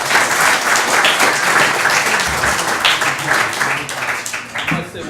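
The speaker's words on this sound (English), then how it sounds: "please give them another round of applause" Loud, sustained applause from a concert crowd for jazz musicians fills the whole stretch, steady clapping that starts to thin toward the end.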